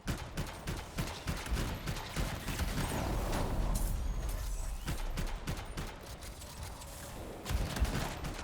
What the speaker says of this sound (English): Not a big fan of this marksman rifle